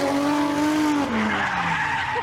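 A loud red car with a large exhaust roars while its tires skid and squeal in a long sliding whine, the engine note dropping as it goes, continuous and close.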